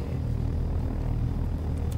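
A light helicopter in the video game Take On Helicopters flies with a steady, loud engine-and-rotor drone, a continuous low rumble that fills the short stretch with no talking.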